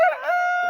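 A rooster gives a short, close crow, loud and clear, with a rising start and a sustained nasal tone that cuts off abruptly, no voices heard.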